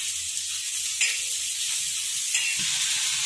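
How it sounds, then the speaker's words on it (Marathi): Tomato frying in a pan with onion and garlic gives a steady, close sizzle that runs throughout, with a couple of small clatters as it is added or moved. "मी आता याच्यामध्ये टोमॅटो घातला आहे. टोमॅटो मी छान फ्राय करून घेते."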